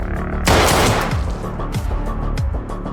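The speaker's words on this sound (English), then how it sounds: "Henry's henchmen are taken out, and Henry himself is wounded by gunfire." Gunfire in a scene from The Gentlemen TV series, a loud burst of overlapping shots followed by several separate heavy reports with echoing tails, a few rapid blasts in a tense sequence.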